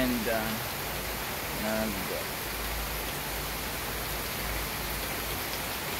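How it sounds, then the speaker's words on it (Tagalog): Heavy rain pours in a dense, continuous hiss on a rainy afternoon, loud and close throughout, with a person briefly speaking over it near the start. "stranded tayo ngayon kasi malakas ang ulan"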